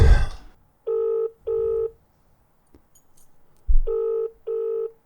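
Touch-tone telephone beeps pairing into steady tones, then a low thump and two more tone pairs, like a phone dialing and ringing out during a prank call to a pizza place; loud and close with no talk.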